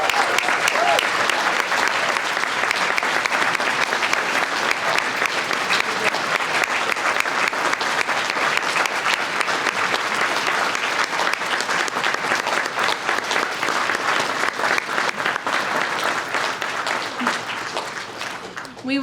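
Sustained, loud applause and cheering from an audience standing for Vietnam veterans at a 2023 50th commemoration ceremony, continuing steadily for the whole span before tapering slightly at the end.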